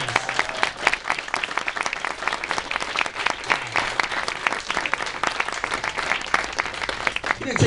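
A crowd at a voice acting panel at a furry convention applauds, dense sustained clapping throughout with a little indistinct chatter under it.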